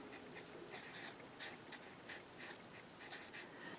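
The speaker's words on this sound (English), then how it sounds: "every time I see an x, I'm going to write a 4" Pen or pencil writing a number by hand during a math lesson, quiet close scratching strokes in short repeated bursts with no talk.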